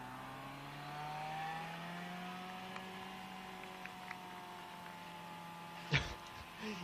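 A race motorcycle at the 2012 Amstel Gold Race strains in first gear, its engine holding a steady, droning whine whose pitch sags slowly, with a sharp knock near the end.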